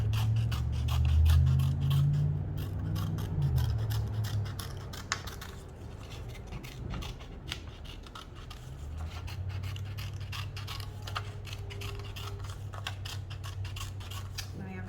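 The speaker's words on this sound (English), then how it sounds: "now we are going to cut it out carefully" Scissors cutting out a piece of paper as it is turned by hand, giving soft repeated snips and rustles at close range, fairly quiet.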